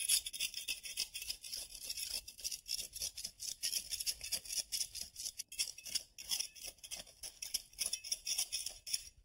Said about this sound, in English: take my trowel and shave it off